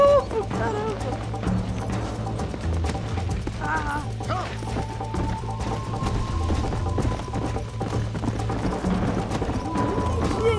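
A horse gallops with fast, continuous hoofbeats in Red Dead Redemption, partly buried under game music and noise while people talk over it.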